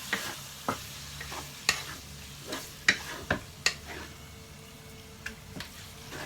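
Eggplant with minced pork stirred in a pan for Shanghai-style eggplant, a soft continuous sizzle punctuated by sharp, irregular clicks and scrapes of the utensil against the pan, close and without talk.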